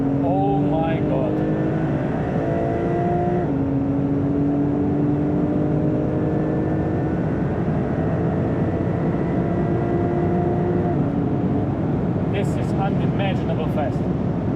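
Porsche 911 992 Turbo S accelerating hard in third gear, its engine note a loud, continuous rising drone with a gear change partway through, heard from inside the car while someone talks excitedly over it.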